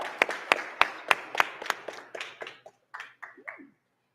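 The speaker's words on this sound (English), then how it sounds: "All right, one more round of applause for Nayeb." A few audience members clap for a presenter at a tech demo day, sparse distinct claps in an uneven rhythm that thin out and fade after a few seconds, fairly quiet.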